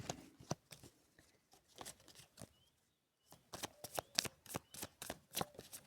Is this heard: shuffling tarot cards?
yes